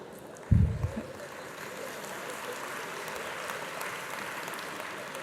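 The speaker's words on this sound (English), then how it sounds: "I love that you're clapping" An audience at a conference session claps, starting with a short burst and then settling into a steady wash of applause that lasts several seconds.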